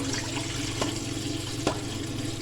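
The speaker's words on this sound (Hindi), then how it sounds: "ये साइड से पानी डाल देंगे 3 से 4 गिलास।" Water is poured steadily from a glass into a cooking pot holding sweet potato pieces, a continuous close splashing and gurgling with a couple of small knocks, no talk.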